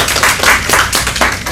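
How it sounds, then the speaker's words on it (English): Audience applause for a speaker at an online academic talk, a short burst of several claps with irregular rhythm, moderately loud and close. "please give a clap for him"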